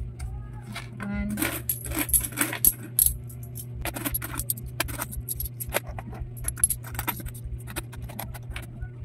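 ₱10 coins from a completed savings challenge are handled and sorted, with dense metallic clinks and jangles close up over a low steady background hum.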